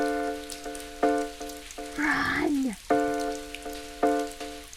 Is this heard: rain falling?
yes